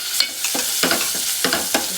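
Masala paste sizzles in hot oil with reddened garlic and curry leaves for a Konkani-Malvani fish curry, under a steady close fry hiss broken by several sharp scraping stirs of a spoon.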